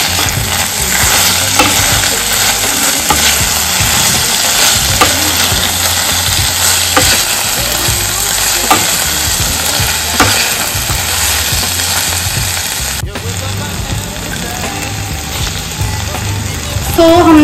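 A Pahadi vegetable dish with mango pieces cooking in a pan, a loud, steady sizzle and bubbling carrying on throughout, with occasional stirring scrapes up close and no talking.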